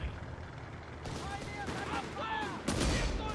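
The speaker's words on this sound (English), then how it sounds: "double grenade launcher volley here onto the section" Grenade launcher volley in Company of Heroes 3, a few rapid shots and a sharper burst near the end over a muffled battlefield bed, fairly faint, with scattered distant gunfire and game voices around it.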